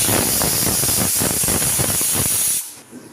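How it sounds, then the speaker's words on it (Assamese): A pressure cooker holding rajma lets off a loud, continuous hissing whistle of escaping steam for a few seconds, then cuts off abruptly into near silence. "এতিয়া এটা প্ৰেছাৰ কুকাৰ লৈ তালৈ মই ৰাজমাখিনি ঢালি দিম আৰু 3টা হুইচেল মাৰিবলৈ দিম।"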